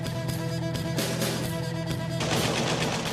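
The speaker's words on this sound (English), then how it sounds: "Suddenly, gunfire erupts from a nearby building." Bursts of automatic gunfire in an urban combat scene from a building, rapid overlapping shots in several volleys over a steady low drone, the final burst louder and denser, with no speech.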